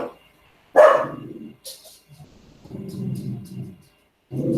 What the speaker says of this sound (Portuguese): É o cachorro que tá voltando.